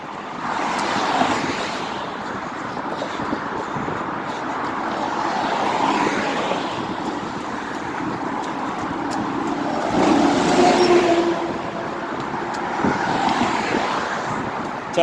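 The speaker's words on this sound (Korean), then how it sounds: "이런 식으로 차들이 다니는 도로" Cars travel along a road at the north end of Yeongdong Bridge over the Han River in Seoul, a continuous roadway rumble with passing vehicles swelling and fading, heard from the roadside.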